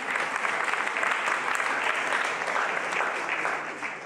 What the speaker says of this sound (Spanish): ahora de nuevo el aplauso a Guillermo Herbetti, que es mi profesor de matemática